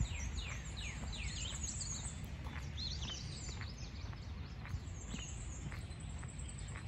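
Many birds chirp and sing in overlapping calls at Nutley Memorial Park, against a steady low rumble of outdoor background noise, with no talking.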